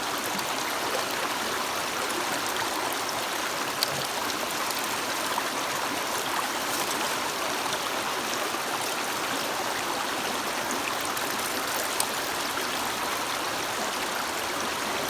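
A creek flows steadily in an outdoor gold-prospecting spot, its broadband rushing and trickling water holding an even, unbroken level throughout with no voices.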